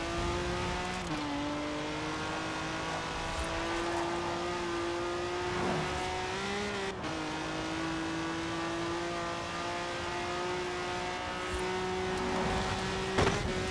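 Porsche engine in Forza Horizon 4 droning steadily at a held pitch with brief shifts and dips, the car driving continuously and loudly, no talking over it.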